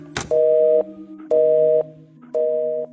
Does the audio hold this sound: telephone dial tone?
yes